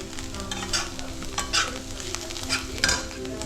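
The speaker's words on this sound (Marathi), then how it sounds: "कांदा पण थोडा कलर बदलेपर्यंत परतून घ्यायचा" Onion sautéing in a pan, sizzling close by while a spoon stirs and scrapes in uneven strokes, loud and continuous with no voices.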